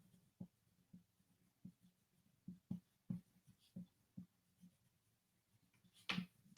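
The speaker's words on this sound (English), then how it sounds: "Let me just write that down." A pen scratches out a handwritten note in short, irregular strokes and taps, quiet and close, with no voices.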